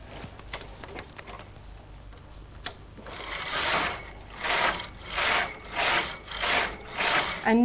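A Brother KH-950 electronic knitting machine knits rows: after a few quiet clicks, the carriage sweeps back and forth in six loud, evenly spaced rasping passes, close by, with no talking.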